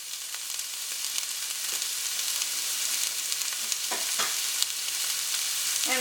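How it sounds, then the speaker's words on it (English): Half a chopped onion and two cloves of chopped garlic sauté in a pan with a steady, close frying hiss, broken now and then by soft scraping stirs. "I'm just going to saute that around in the pan."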